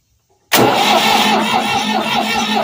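A Ford 4000 tractor's diesel engine fires up abruptly after a moment of silence and settles straight into a loud, close, rough idle with a steady knocking chug.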